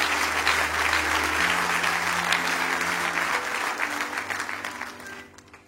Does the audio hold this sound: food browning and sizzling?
no